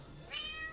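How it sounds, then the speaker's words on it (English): A house cat gives a single short, quiet meow up close, rising briefly over faint background noise. "Now, this is a beautiful kitty."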